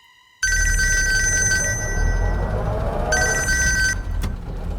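A telephone rings after an emergency call to 112 is placed, with two long electronic ring bursts separated by a short pause, loud and close, no voices over it.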